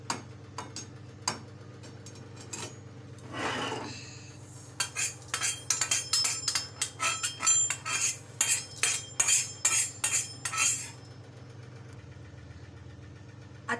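Roasted moong dal is scraped out of a hot pan into a wide plate with a metal spatula. A burst of sharp clinks and scrapes comes after a few scattered taps, all over a low, steady hum.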